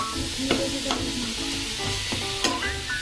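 Coconut and jaggery filling for ukadiche modak cooking in ghee, stirred with a spoon: a continuous soft sizzle under regular scraping and clinking strokes against the pan, close and alone.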